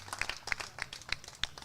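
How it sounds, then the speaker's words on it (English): Scattered, light clapping from a small baseball crowd, a handful of distinct claps spread across a brief moment, faint and somewhat distant. "you can hear the round of applause here"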